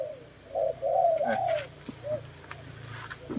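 A spotted dove coos in a short, close phrase of soft, rising and falling notes, with a faint second call near the end over quiet background.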